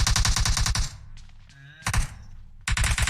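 Bursts of rapid automatic gunfire in the mobile battle royale game PUBG Mobile, loud and close, breaking off into a quieter gap with faint tones before the shooting resumes sharply.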